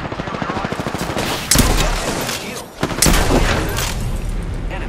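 Rapid automatic gunfire in Apex Legends, a loud, steady stream of close shots broken by heavier bursts and a short pause, with game voices in the mix.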